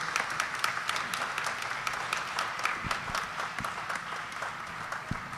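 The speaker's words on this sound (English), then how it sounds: "So particularly want to give them a big round of applause" Applause from an audience at an Independence Day concert, a steady patter of many hands clapping at moderate distance that carries for several seconds without talk.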